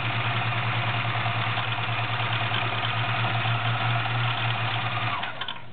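A vintage 1937 Kenmore convertible sewing machine stitches a rickrack stretch zigzag with a steady, close mechanical whir and hum that runs without a break, then slows and stops near the end.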